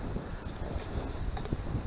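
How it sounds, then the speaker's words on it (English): Steady broadband wind roaring across an exposed summit beside a fire tower on Mount Arab at dusk, a continuous buffeting rush with gusty swells and low rumble throughout. "It's quite windy up here"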